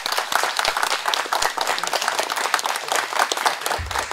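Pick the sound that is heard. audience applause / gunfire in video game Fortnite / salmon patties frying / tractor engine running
audience applause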